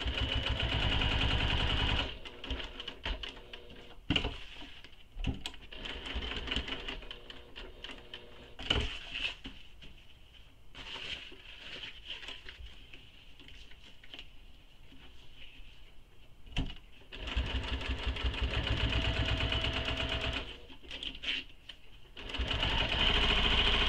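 A sewing machine stitching the lining of a small backpack, running in bursts of rapid, steady mechanical whirring with pauses and stops between seams, close and moderately loud.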